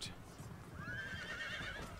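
A single horse whinny rises and wavers over about a second in the Napoleon: Total War video game, faint and set against low battlefield rumble.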